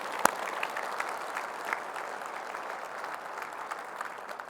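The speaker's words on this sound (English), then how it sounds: "a big shout out and a round of applause to the IEC Platinum Partners for putting that event on last night" An audience at an awards gala claps in sustained applause, a dense, even patter of many hands heard from within the room and moderately loud throughout.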